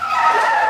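A car tire skids in a short, loud, sustained screech lasting well under a second.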